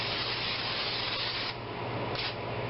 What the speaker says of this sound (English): coat your 9x13 casserole dish with some lovely non-stick spray